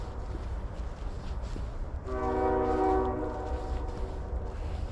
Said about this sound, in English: you can probably hear the train whistle in the background